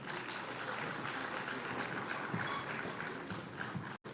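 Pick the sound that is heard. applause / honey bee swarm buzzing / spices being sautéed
applause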